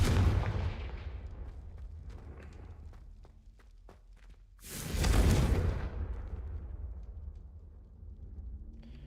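A Confringo blasting spell is cast in a Hogwarts video game, giving a sudden loud whooshing explosive burst that rises midway through and then tails off over a low rumble and footsteps.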